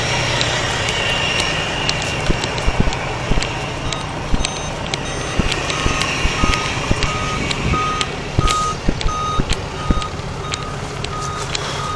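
A garbage truck reverses and its beeper repeats in a steady rhythm over loud engine rumble and street noise, with people talking nearby.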